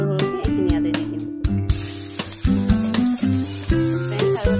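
Finely chopped onions hit hot oil left over from frying eggs, a steady sizzle rising as they go into the pan, under music playing throughout.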